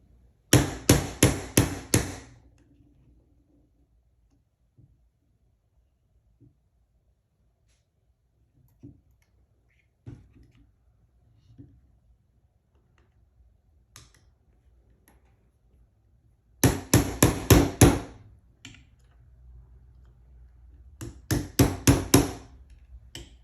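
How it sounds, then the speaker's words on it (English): A hammer striking a metal hole punch in rapid bursts of about five sharp blows each, with quiet gaps and scattered light clicks between the bursts. "Hole punch hammer."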